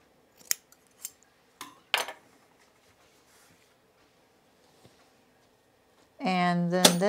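A few crisp scissor snips trim blouse fabric at close range, spaced irregularly and then fading out, before a person starts talking near the end.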